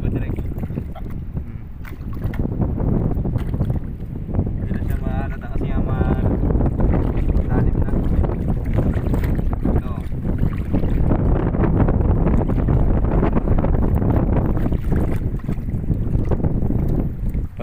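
Steady wind buffets the microphone throughout, a continuous low rumble with water and boat noise at sea while diving for sea urchins, and a voice speaking briefly in Filipino.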